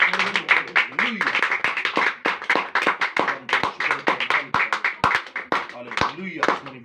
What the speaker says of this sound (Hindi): यस्सु मसीह के लिए एक बार जोरदार तालियां